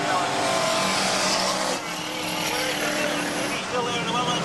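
Race cars at Alexandra Speedway during a Cannonball Derby in August 1994, engines roaring continuously as the pack speeds around the track, loud and dense, with a commentator talking over the noise.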